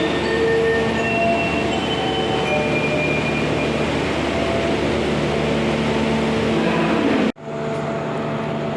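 The Matarmaja passenger train runs at about 70 km per hour near Kertosono station, a loud continuous rumble with rattling wheels and faint squeals, cut off abruptly near the end by a sudden drop into quieter interior noise.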